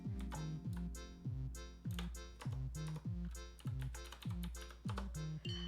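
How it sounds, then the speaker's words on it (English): Someone types rapidly on a computer keyboard at close range, a crisp run of key clicks in an uneven rhythm of short bursts, heard alone with no other sound. "I am typing in the wrong window."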